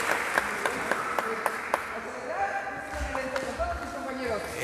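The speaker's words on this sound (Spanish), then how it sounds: "Estoy aplaudiendo como los de los sordomudos." A run of sharp hand claps at a fan convention opening, evenly spaced for about two seconds, followed by background voices and event noise.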